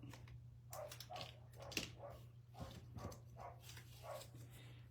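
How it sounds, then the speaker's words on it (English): A dog barks repeatedly at a distance, sharp outdoor barks spaced irregularly over a steady low hum. "He's just barking, barking, barking at it when he goes outside."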